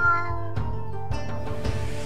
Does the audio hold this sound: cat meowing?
yes